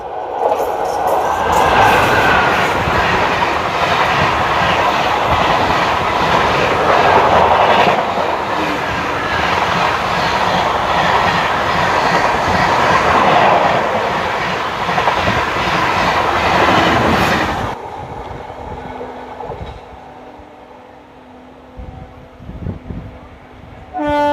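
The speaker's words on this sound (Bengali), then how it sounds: "ব্যাকফোর দিয়ে আসছে হাওড়া পুরুলিয়া ইন্টারসিটি এক্সপ্রেস" The Howrah Purulia Intercity Express rushes past close by with a loud, sustained roar and clattering of wheels for most of the stretch, then drops abruptly to a quieter rumble with faint rail clicks.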